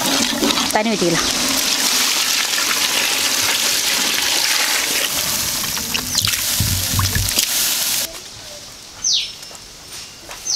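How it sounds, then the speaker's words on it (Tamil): Water poured from a vessel into a cooking pot while making jackfruit biryani outdoors: a loud, continuous splashing gush lasting several seconds, ending abruptly, with a few faint knocks after. "தண்ணி ஊற்றிடலாம்."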